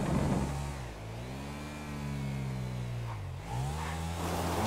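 A motorcycle engine in GTA 5 revs on winding hillside serpentine roads, its harmonic drone rising and falling steadily as the throttle changes, with a brief dip before climbing again, loud and continuous with no talk.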